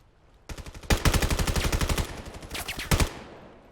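Rapid automatic gunfire from a 1v1 match in the shooter game Crest: a short burst, then a longer run of fast, evenly spaced shots, and a final pair of loud cracks trailing off.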